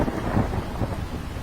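Heavy rain pours steadily with low rumbling thunder rolling beneath it, a loud, continuous storm wash with no pauses.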